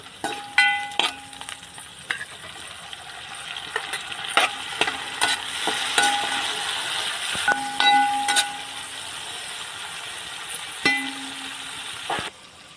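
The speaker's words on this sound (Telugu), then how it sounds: "ఉల్లిపాయలు ఇలా వేగినాక టమాటాలు కూడా వేసేసుకుందాం" Onions and tomatoes frying in a pan for chicken pulao, a steady close sizzle with repeated clinks and scrapes of a spoon stirring against the metal, continuous throughout.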